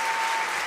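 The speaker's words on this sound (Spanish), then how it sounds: "Un aplauso para él, por favor." Audience at a Mother's Day concert applauding the costume designer, a brief dense burst of steady clapping from a crowd, fairly loud and even throughout.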